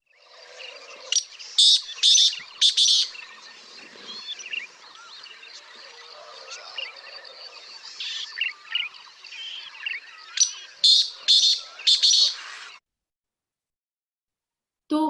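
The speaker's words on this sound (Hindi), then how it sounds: "मैं आपको काले तीतर या ब्लैक फ्रैंकोलिन की आवाज़ सुनाती हूँ" A black francolin calls loudly and close by, giving a few harsh, rhythmic phrases of sharp grating notes, with quieter calls in between and then a short silence.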